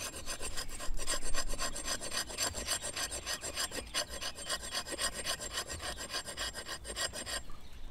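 A Work Tuff Gear Hollow King carving tool rasps steadily against wood, a continuous grinding scrape with a fast, even rhythm, loud and close, running alone for several seconds before easing at the very end.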